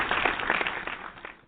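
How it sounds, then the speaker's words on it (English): A round of applause for a team called the Braves, a dense burst of clapping from a gathered group that starts loud, holds steady, then thins and fades toward the end, with no voices over it. "Round of applause for the Braves."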